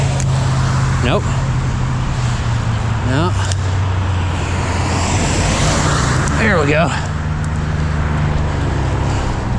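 Cars pass on a city road near a zoo on a sunny day, several loud whooshing passes rising and falling over constant traffic and wind rumble, heard from a bike, with someone talking briefly.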